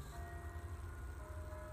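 Faint, distant church bells ring in sustained, overlapping tones over a low background rumble along an abandoned road at former Nike missile barracks.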